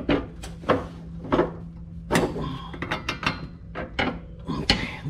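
A long socket on a long bar tightening the bolt on a lawn mower blade, giving a series of sharp metallic clicks and clunks in an irregular rhythm, close and moderately loud, with a faint steady hum beneath.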